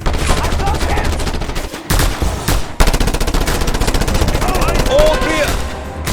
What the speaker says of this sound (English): That mounted gun is tearing us to shreds!